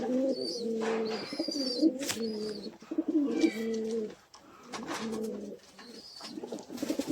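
Red wild Jalali pigeons in a loft coo in repeated low, throaty phrases, close and clear, with brief pauses between bouts and occasional higher chirps.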